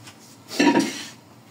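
Leftover broth poured into a pot of beef callos made from tripe and offal, a brief liquid splash with a light clink of metal, close and alone against quiet.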